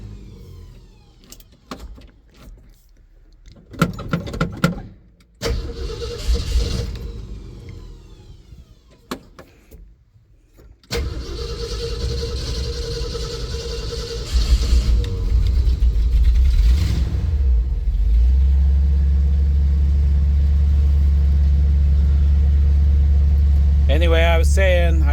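A Polaris Ranger utility vehicle starts up and drives off, its engine settling into a loud, steady rumble after a few door and cab noises, with a voice talking early on.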